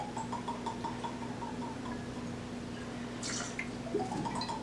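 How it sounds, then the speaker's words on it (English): Bourbon glugs out of a bottle into a glass for a highball, a quick run of gurgling liquid pulses up close with a brief splashy burst near the end, no talking. "I love that glug, glug, glug, glug, glug."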